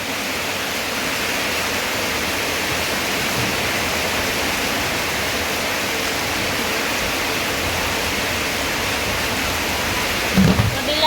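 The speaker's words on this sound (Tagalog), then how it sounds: "Grabe ang ulan." Heavy rain pours down at night, a dense, loud and constant hiss of water that goes on without a break, with no voices heard.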